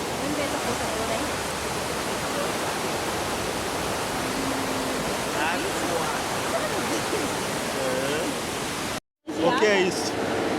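Strong rushing water at a water station in Brazil, a loud, dense and continuous roar with faint voices mixed in, briefly cut off near the end before resuming.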